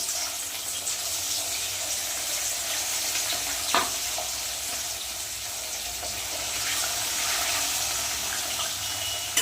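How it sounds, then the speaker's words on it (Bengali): Rohu fish pieces frying in mustard oil, a continuous, fairly loud hiss and crackle of hot oil, with one sharp utensil knock partway through and no speech. "সর্ষার তেলেই রান্নাটা করব আজকে একে সব মাছগুলো ভেজে নেবো"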